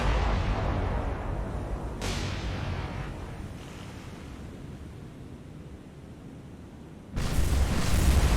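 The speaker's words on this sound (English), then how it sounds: "Huge hits! That's 16-inch high explosive." 16-inch high explosive naval shells hitting in the video game War on the Sea, a roaring wash of noise with one blast surging early and a heavier, louder impact crashing in toward the end.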